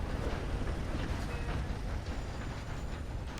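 In the Red Dead Online video game, a steam train with a single caboose rolls along steadily, making a continuous rumbling rattle of wheels and cars at moderate volume, with no speech.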